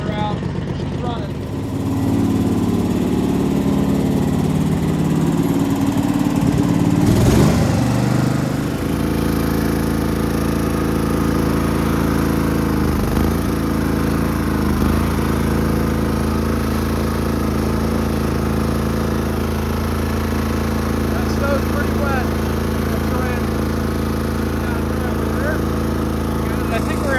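A Craftsman garden tractor engine runs steadily and loudly, smoky at half choke in snow-plowing weather, a continuous low drone with a brief surge early on.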